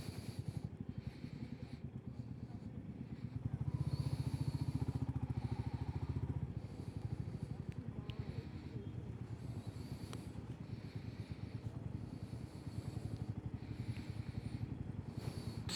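Motorcycles and cars idle and creep through a traffic jam in Mysore, India, making a steady, fairly close engine rumble with a louder passing vehicle midway and no talking.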